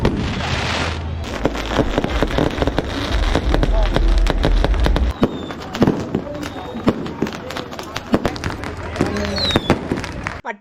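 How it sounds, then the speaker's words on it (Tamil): Rapid firecrackers popping and crackling nonstop, mixed with bigger fireworks bursts, while people talk and shout in the background of a busy outdoor Diwali night crowd in Africa. "எல்லாருமே வந்துட்டு கிராக்கர்ஸ் எல்லாம் வெடிக்க ஆரம்பிச்சிட்டாங்க"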